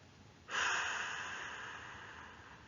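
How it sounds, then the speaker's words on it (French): A single forceful breath blown out through the mouth during a relaxation exercise, starting abruptly and fading slowly over a couple of seconds, close and alone. "Soufflez fort par la bouche pour chasser les tensions accumulées dans"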